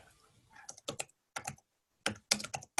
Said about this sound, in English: I'm typing these in right now.